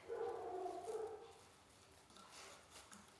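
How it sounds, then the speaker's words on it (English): A dog barks a few times at a distance, muffled and faint, followed by quieter whimpers against low background noise. "I hope y'all can't hear my dog barking in the background."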